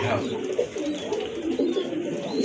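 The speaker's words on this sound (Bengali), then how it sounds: "এটা হচ্ছে আপনার মাদি কবুতর" A female pigeon gives soft, low cooing calls at close range, a few repeated murmuring phrases over about two seconds, partly under quiet background noise.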